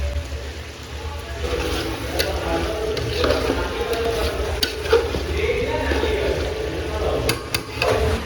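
Fried rice cooking in a pan at an outdoor feast near a dam, with steady stirring and scraping over a low sizzle, fairly close and continuous, with a few sharp clanks of a utensil against the metal.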